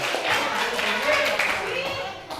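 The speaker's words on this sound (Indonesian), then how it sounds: "Tepuk tangan" Classroom students clapping hands together, a busy patter of claps mixed with a voice talking over it.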